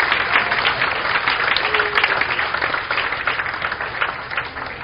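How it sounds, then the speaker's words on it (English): Church congregation clapping in praise during a Sunday service, a dense, steady wash of many hands applauding at once that holds for about five seconds without a break. "And we'll give him the best clap of praise."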